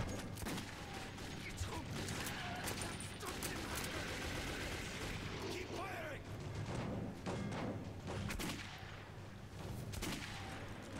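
Gunfire in the post-apocalyptic shooter Metro 2033 comes as a string of sharp cracks and clicks over a dense bed of mechanical clatter and creaks, with faint background voices.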